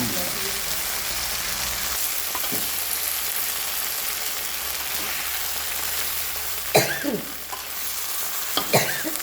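Water spinach with garlic and chilies sizzles steadily in a hot wok, with occasional scraping strokes of a spatula as it is tossed and stirred.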